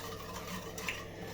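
A spoon stirring fresh milk with a piece of cream for crème caramel, giving soft, faint scraping and swishing with light clinks against the pot.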